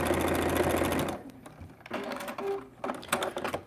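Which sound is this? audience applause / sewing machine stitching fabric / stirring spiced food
sewing machine stitching fabric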